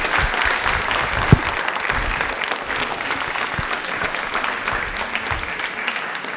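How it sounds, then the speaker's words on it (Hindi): A studio audience at a televised quiz for Birsa Munda Jayanti and Janjatiya Gaurav Divas claps for a correct answer. The applause is loud and sustained, with one sharp thump partway through. "तालियां बजा दीजिए एक बार जोरदार"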